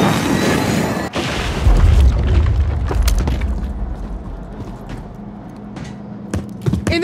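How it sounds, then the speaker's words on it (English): Cruise missile explosion in Call of Duty Modern Warfare 3, a deep booming blast that swells after a sharp crack, followed by rumbling debris, scattered impacts and pops. "Cruise missile is active!"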